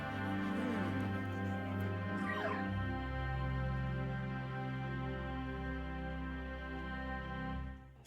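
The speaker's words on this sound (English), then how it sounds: "Puppy." A puppy in Luigi's Mansion 2 HD whimpers and yips in high, wavering cries over a sustained tonal game music bed, fairly close and clear.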